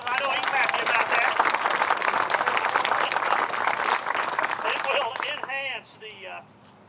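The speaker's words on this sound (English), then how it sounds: "Give him a round of applause." A crowd at a theatre groundbreaking ceremony gives a sustained round of applause for the Chamber of Commerce president, with dense clapping that tapers off near the end as a voice begins speaking.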